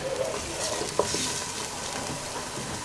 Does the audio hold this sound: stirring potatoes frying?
yes